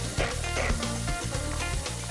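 Carrots and celery for a ciabatta stuffing with chestnuts and pancetta sizzle loudly in a pan, a dense, close crackle running without pause and without talk.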